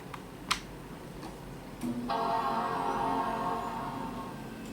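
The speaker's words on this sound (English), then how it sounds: "that hard drive doesn't sound healthy" Faint ticking and clicking over a steady whir from a Bondi Blue iMac, then a louder mechanical hum with a whine from its failing hard drive kicks in and keeps running.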